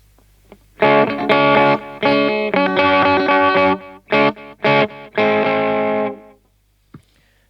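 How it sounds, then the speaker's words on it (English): Distorted electric guitar chords through an ENGL amp with a delay effect, played in sustained bursts with brief gaps, ringing tails trailing off after each stop. "So let's engage just a little bit delay."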